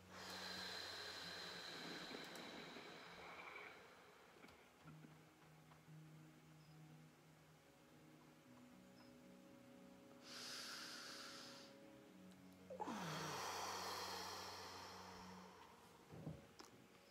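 Slow, deep breaths during a guided meditation, soft inhales and longer exhales rising and fading in a quiet room, with faint low hum underneath and no talking.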